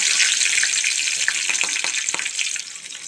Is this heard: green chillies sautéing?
yes